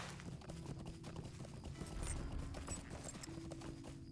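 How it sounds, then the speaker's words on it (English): Horse hooves clip-clop in a steady quick rhythm as a horse is ridden across open moorland in LOTRO, faint and continuous with no speech. "It's easier for me to just get on my horse for this."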